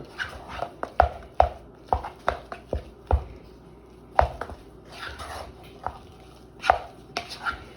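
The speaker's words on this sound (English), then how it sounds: "I'm just kind of stirring, mashing together" A spoon works mashed potatoes in a pan for gravy burgers, giving a run of irregular, fairly close knocks and soft squashing scrapes at an uneven rhythm with no talk.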